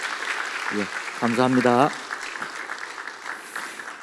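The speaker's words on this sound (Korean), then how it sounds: "많은 박수 부탁드립니다" A church congregation applauds during a Sunday afternoon multicultural-ministry dedication service as a support gift is presented: steady, moderate clapping runs throughout while someone briefly speaks over it.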